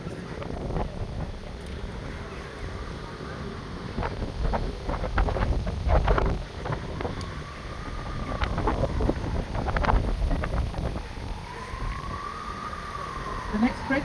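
A canal tour boat glides along under a steady wash of wind and water noise with a low motor rumble, while voices murmur faintly in the background throughout.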